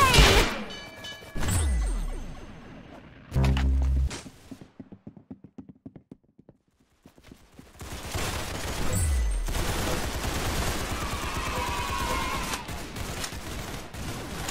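Gunfire in the Roblox game Arsenal comes in sharp bursts and rapid volleys, separated by a quieter stretch of scattered single shots before a dense, sustained barrage resumes.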